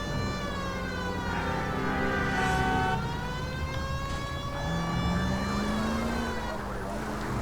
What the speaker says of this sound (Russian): давайте выключим сирену и спокойно доедем